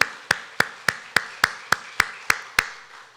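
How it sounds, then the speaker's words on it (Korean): A church congregation at a Sunday morning worship service claps in unison, about ten sharp, evenly spaced claps in a quick, steady rhythm with no voices. "하나님께 뜨겁게 영광의 박수 하나님께 올려드리겠습니다."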